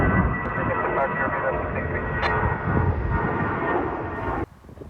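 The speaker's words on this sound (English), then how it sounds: "suddenly this airplane just takes off from a runway I didn't even know was back there" A fixed-wing airliner roars loudly and steadily as it takes off from a runway beside an airport observation plaza, the broad engine noise filling the whole clip before cutting off abruptly near the end.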